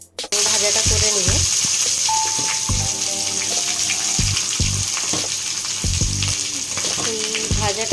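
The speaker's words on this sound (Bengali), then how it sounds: "ভাজাটা করে নিব।" Food fries in a pan on a gas stove, a loud steady sizzle close by with intermittent scraping and stirring knocks, and a faint voice underneath.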